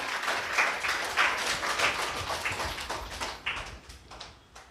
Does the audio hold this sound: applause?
yes